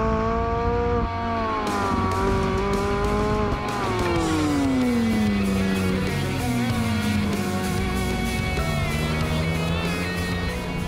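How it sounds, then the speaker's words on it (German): A McLaren 675LT Spider engine echoes off rock walls, a loud steady roar that rises and falls with gear changes and revs, heard alone without talk. "Aber er klingt nicht schlecht, wenn er hier von diesen Felswänden zurückhalt"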